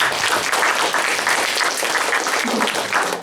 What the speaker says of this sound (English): Now, another round of applause, please.